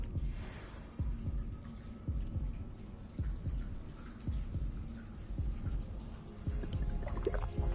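Heartbeat in the video game Hogwarts Legacy, steady low thumps repeating about once a second over a dull hum, heard alone without talk.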